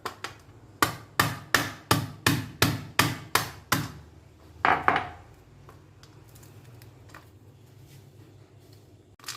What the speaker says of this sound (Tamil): இது போல் எவ்வளோ முடியுமோ அந்த அளவுக்கு நைஸாட்டு உடைச்சிருங்க